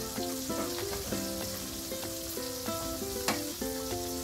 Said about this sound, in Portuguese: Vamos ver, vamos mexer aqui um pouco.